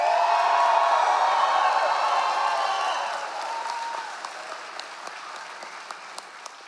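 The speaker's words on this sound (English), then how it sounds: "let's hear an even bigger cheer." University convocation crowd cheering and applauding graduates, a loud roar of clapping and shouts that gradually eases into lighter, scattered claps.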